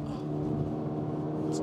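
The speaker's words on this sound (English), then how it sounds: "All this engine noise you're hearing, by the way, I'd say the vast majority of it is just being pumped in." A 2023 Toyota GR86 boxer engine revs steadily from inside the cabin while driving, a sustained loud engine drone filling the whole moment.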